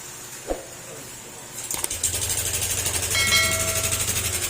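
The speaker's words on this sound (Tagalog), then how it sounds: "Yan po yung tunog ng makina niya mga sir." A Honda Click 125 scooter engine idles with an abnormal rough, rhythmic knocking rattle after a couple of sharp clanks, close and fairly loud.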